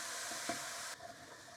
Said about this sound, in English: And now we put in the onions. And we will saute these for about 10 minutes.